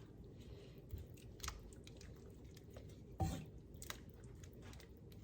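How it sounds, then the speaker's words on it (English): Thick Thai yellow chicken curry being stirred in a pot, giving soft wet squelching and sloshing sounds with a few louder scrapes and knocks, steady and close throughout with no talking. "Let's give this all a stir."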